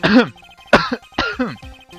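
Several harsh, close coughs in quick succession, loud and throaty, with short pauses between bursts.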